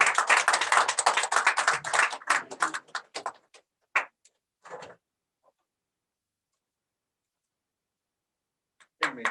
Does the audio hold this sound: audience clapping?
yes